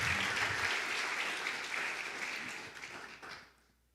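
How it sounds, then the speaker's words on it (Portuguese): A church congregation applauds in a long, dense burst of clapping that gradually thins and fades out into quiet. "Você pode aplaudir Jesus?"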